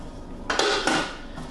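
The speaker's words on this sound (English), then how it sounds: "And put the lid on." A Thermomix lid being set in place: a short cluster of plastic-and-metal clunks and clicks in quick succession, close and moderately loud, in a quiet kitchen.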